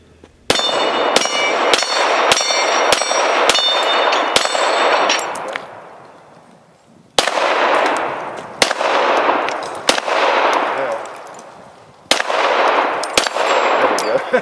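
Rapid pistol gunshots ringing off steel targets outdoors, a quick string of about seven loud cracks each with a metallic clang, a pause, then several more spaced shots with ringing decay.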